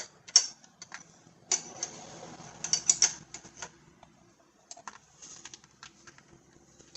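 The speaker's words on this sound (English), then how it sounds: "now I need to get some torque on it, so I got the bigger wrench" Wrench clicking and scraping on a rusty high-pressure A/C hose fitting of a 2009 Buick Enclave, a series of small metallic ticks and ratchet-like clicks at close range, loud bursts between quieter pauses.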